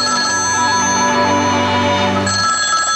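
A telephone rings loudly and close by in a 1977 television sitcom scene, a continuous bell-like electronic trill that holds steady for about two and a half seconds and then shifts in tone near the end, with no voices over it.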